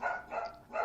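A dog in a home barks three times in quick succession, faint and a little distant, with no voices over it.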